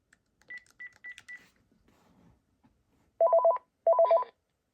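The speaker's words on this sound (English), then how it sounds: "When it gets caller ID, the ringer sounds kind of weird." A Panasonic KX-TG5583 cordless phone ringing while receiving caller ID: a short sequence of quick high beeps, a pause, then two louder bursts of rapid warbling electronic ring tones, close and clear with no talking.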